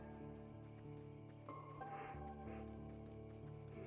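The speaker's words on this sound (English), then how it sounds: "Hear the crickets." Crickets chirp steadily at night in a forest within the online game Black Desert, a continuous high trill layered over droning game music and ambient tones.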